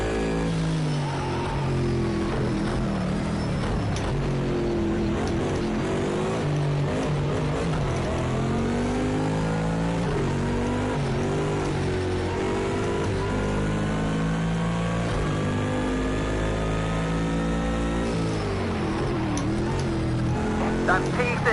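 Racing engines of a Bentley GT3 and an AMG Mercedes GT3 car in Project Cars 2 drone loudly and continuously, rising and falling in pitch through gear changes and acceleration, with a voice talking over them at times.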